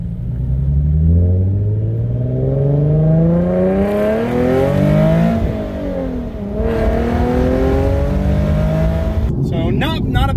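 Nissan 370Z with a loud tuned VQ engine revving from inside the car with the window down, rising and falling harmonic roar held strongly for about ten seconds, a sharp burst of crackle near the end.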